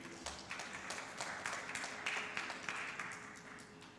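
Audience applause in a forum hall, a moderately distant, fairly quiet patter of clapping with a faint steady hum underneath, no clear voices.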